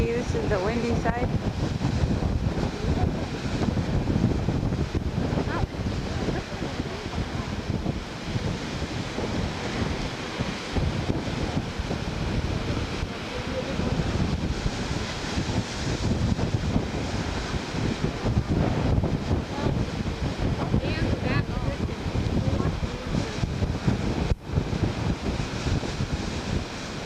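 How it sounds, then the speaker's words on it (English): Strong wind on the windward side of Oahu buffets the microphone in a constant loud rush, with crashing ocean surf blended underneath throughout. "A little windy. This is the windy side."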